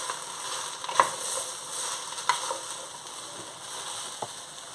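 A pan of shrimp chop suey vegetables with squash sizzles steadily while a utensil stirs, giving a few sharp scraping clicks over the constant frying hiss, moderately loud and close, with no talking.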